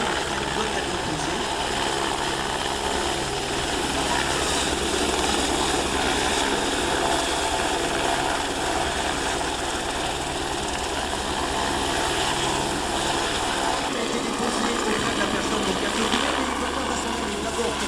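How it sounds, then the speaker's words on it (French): A rescue helicopter hovers at an air show in Belvès, France, its loud rotor throb and turbine whine holding steady and close throughout. "l'hélicoptère va se positionner dans une zone de manière à ne pas consommer de carburant"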